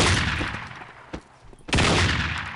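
Sustained gunfire from Postal 2: loud, dense rapid shots that cut out briefly around the middle, then resume at full force near and alone.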